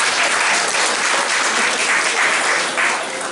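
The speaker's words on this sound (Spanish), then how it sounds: "Un aplauso para Jesús" Loud, steady applause from a church congregation, a dense continuous patter of clapping that holds at full strength throughout.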